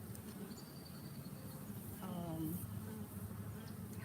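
Bees buzzing around a beekeeper at an apiary, a soft steady drone with faint passing buzzes and a quiet voice briefly in the background.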